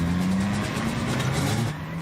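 Ford Escort Cosworth rally car from 1994, fitted with a bank of front lights, launching off a start line with a loud, close, sustained engine note that steps up in pitch as it pulls away.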